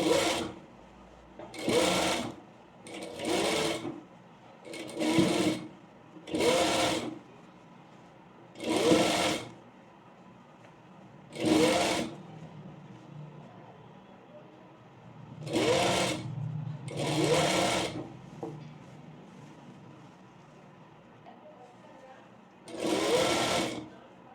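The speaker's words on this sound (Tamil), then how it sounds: "இந்த 1/2 இன்ச்லேயே ஸ்டிச் பண்ணணும்." Sewing machine stitching a layered frill frock, running in a series of short bursts of rapid stitching with pauses between them, fairly close and steady.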